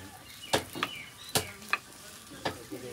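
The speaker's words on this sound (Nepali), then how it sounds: "यो सबै एकदम पहिला मजाले भुट्ने हो" Goat mutton frying in a pan for a festival meal, with about six sharp scraping stir strokes over a low sizzle, close and fairly quiet.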